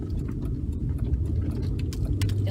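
An unmarked police car passes on a road, a steady, moderately loud engine and tyre rumble with no talk over it.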